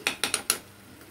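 A utensil clinks against a pan as butter is stirred into Lasuni palak paneer: four quick, bright metallic taps close together, then quiet.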